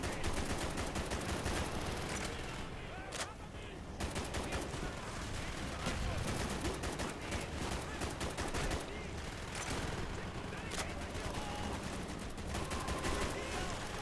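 Dense, continuous automatic gunfire from an MG turret in the Black Ops mission Project Nova, loud bursts and rattling shots filling the whole stretch with barely a pause.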